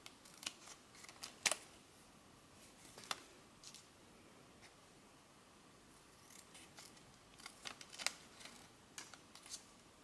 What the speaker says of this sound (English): Just cut along the edge.